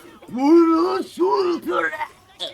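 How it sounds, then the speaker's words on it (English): Cementoss from the My Hero Ultra Rumble video game shouting loudly as he activates Plus Ultra, a long drawn-out bellow followed by two shorter yells. "The way Cementos shouts when he activates Plus Ultra"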